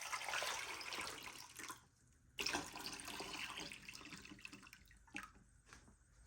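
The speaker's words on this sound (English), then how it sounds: "To that, we'll add in enough water." Tap water runs into a saucepan holding eight eggs, a steady close splashing stream that stops briefly, resumes, and ends with a few drips.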